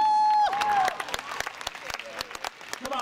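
Spectators at a ballroom dance championship final clap for the competing couples, a whistle tone opening into scattered, crisp applause that thins out, with crowd voices mixed in.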